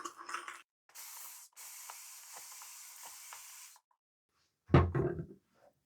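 A few quick hissing spritzes from a spray bottle of water onto shaving soap, then a longer steady spray, followed after a pause by a short clattering handling noise.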